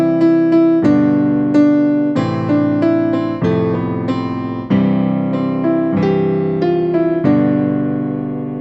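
A piano plays a steady melody over sustained left-hand chords, notes ringing together in an even, flowing rhythm.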